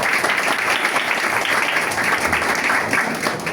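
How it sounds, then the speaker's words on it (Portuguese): An audience applauds Professor Henrique Sampaio at a cultural heritage discussion circle, a dense, steady wash of many hands clapping throughout, fairly loud and full, without speech on top. "vamos receber com muitos aplausos nosso professor Henrique Sampaio"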